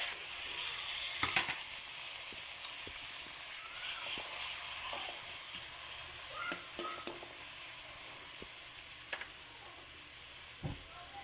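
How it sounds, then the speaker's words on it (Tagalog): Sarsiado with tomato sautéing in a frying pan, a steady sizzle with scattered clicks and scrapes of stirring throughout, close and constant. "Ihigisa na po natin yung ating sarsyado."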